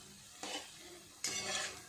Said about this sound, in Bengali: একটু উল্টো পাল্টে বড়াগুলোকে ভাজা করে নেব